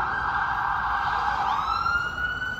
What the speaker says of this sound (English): See, there go an ambulance.